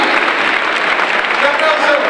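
Loud, dense applause from a large stadium crowd at San Mamés, a steady broadband roar of clapping filling the whole short stretch, with voices mixed in.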